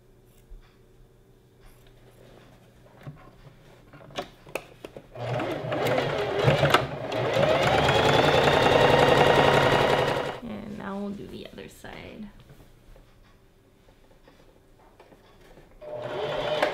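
A sewing machine stitches down a seam on a gathered maxi dress, starting after soft handling noises and running in one loud, continuous burst of several seconds before stopping, followed by quiet fabric rustles and a brief restart.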